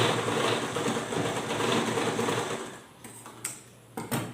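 A sewing machine stitches the shoulder seam of a boutique-style garment, a steady close mechanical whirr running continuously before stopping, followed by a few short clicks and handling sounds.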